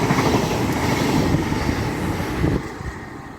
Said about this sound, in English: We've got a train on platform 4 not stopping, and we have a Thames link.